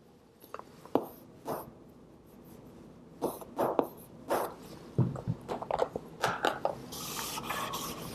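Chalk or pen scratching across a board during a graduate quantum mechanics lecture, with short strokes and taps in irregular bursts, close and fairly clear, becoming busier and denser toward the end, with no talking.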